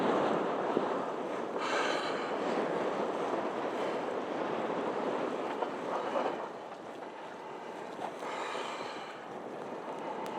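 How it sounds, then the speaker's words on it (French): Strong sea wind roars continuously across the microphone during wingfoiling, a dense, steady buffeting rush with slight surges and no clear voices. "C'est énorme le vent là."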